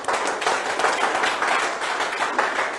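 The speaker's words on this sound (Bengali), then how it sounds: "আপনাদের জন্য করতালি" An audience claps steadily in a hall after a motivational talk, the dense applause running loud and continuous through the whole clip with no speech.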